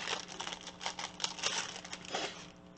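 Plastic packaging around an embossing folder bought from AliExpress being opened, with close crinkling and crumpling rustles in quick bursts throughout.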